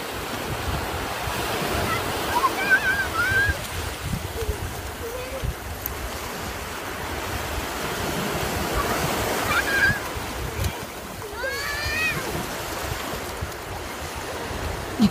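Ocean waves break on a beach in a continuous rushing surf, with heavy wind buffeting the microphone and a few faint high chirps or squeaks riding over the roar.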